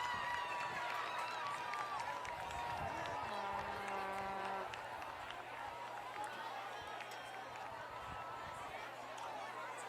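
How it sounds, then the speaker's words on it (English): Crowd in the stands at a night high school homecoming football game between Benilde-St. Margaret's and St. Louis Park, a distant, steady murmur with faint cheering, under a commentator's voice and a brief tonal horn. "Listen to that crowd."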